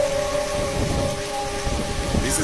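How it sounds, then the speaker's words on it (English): Steady heavy rain hisses during floods in South Africa and Botswana, with a low rumbling of thunder beneath the dense downpour, constant and enveloping throughout. "It's raining again."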